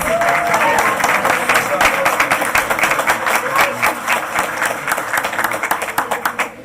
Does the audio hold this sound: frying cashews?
no